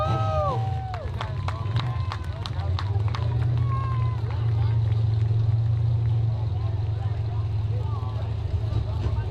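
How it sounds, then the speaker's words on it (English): A heavy Ford tractor engine roars and labors under strain pulling out of a mud pit at a race event, with a crowd cheering and shouting over it. "That Ford tractor's built tough."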